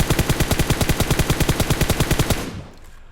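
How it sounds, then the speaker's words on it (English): Rapid automatic gunfire in PUBG Mobile hammers a target with headshots, a loud, even burst of about two dozen shots that cuts off and leaves a short fading tail. "Let's go ahead and fire headshots."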